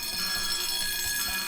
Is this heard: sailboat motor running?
no